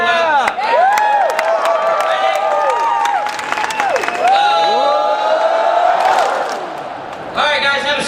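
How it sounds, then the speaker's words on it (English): A conference crowd in San Diego bursts into a wild clap, rapid clapping mixed with whoops and shouted cheers, loud and close, surging and dipping in waves before a brief lull and a final burst. "Who wants to do wild clap?"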